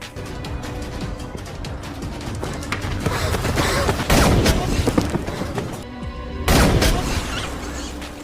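Dense gunfire in a war film battle scene set in the Iran–Iraq war, continuous rattling volleys and booms under a loud soundtrack, with a brief drop near the end before the firing resumes.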